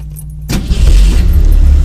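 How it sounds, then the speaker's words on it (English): A 1963 Ford Falcon engine cranks and catches after half a second of quiet, with no choke or accelerator, then settles into a loud, rumbling idle with steady low throb. "started it right up, didn't hit the accelerator, no choke, nothing"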